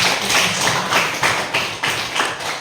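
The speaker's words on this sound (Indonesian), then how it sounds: "Mari kita berikan aplaus kepada teman kita yang sudah melakukan." Classmates applaud a presenting student in a school classroom: a steady wash of many hands clapping with pulsing swells, moderately loud and without talking.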